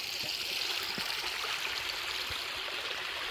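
A stony creek flows steadily, giving a constant close rush and trickle of water that fills the whole stretch without any voices.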